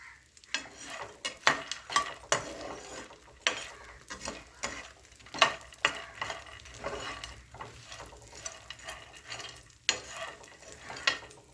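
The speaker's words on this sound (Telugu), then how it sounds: "మీడియం ఫ్లేమ్లో వేయించుకోవాలి" Snack ingredients for a spicy pulmakhani mix fry in a pan over a medium flame, giving a steady crackling sizzle broken by repeated scrapes and stirring knocks from a utensil against the pan.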